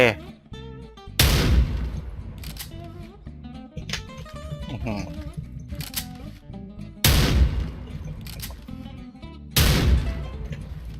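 Three booming Barret sniper rifle shots in Special Force 2, each a sharp, heavy blast with a long decaying tail, spaced several seconds apart over quieter game sounds and background music.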